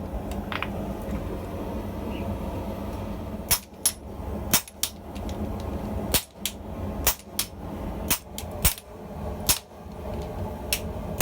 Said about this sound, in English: I'm very deliberately hammering and holding down on the downstroke